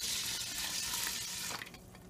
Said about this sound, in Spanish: Ahora le agregamos una taza 3 cuartos de agua.